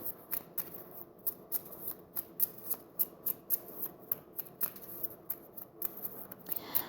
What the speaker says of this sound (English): Let's pick a Lenormand card.